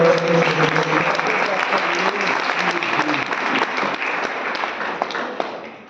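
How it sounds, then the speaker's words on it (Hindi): Loud, dense applause from a large audience honouring a company's founder at an indoor seminar, sustained steady clapping over a crowd murmur that tapers off near the end. "कंपनी के जो जन्मदाता है उनके लिए जबरदस्त ताली होना चाहिए"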